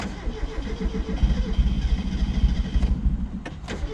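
A 2019 Mazda Miata with individual throttle bodies is started with a key, the starter churning briefly before the engine catches into a rough, pulsing idle, close by and fairly loud.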